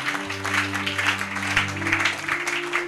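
A congregation at a Bible teaching service applauds steadily for about three seconds, a dense, continuous clapping wash with a sustained musical tone running underneath.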